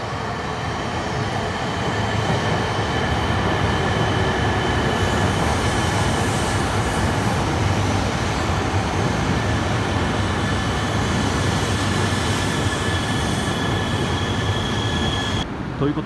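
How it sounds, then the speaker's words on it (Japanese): JR East E3 series 0 Tohoku Shinkansen train pulling into a station platform, producing a loud, sustained rolling roar with a faint high whine that holds steady throughout before cutting off at the very end. "11番線には10時37分発東北新幹線上り那須野272号東京行きがやってきましたね。"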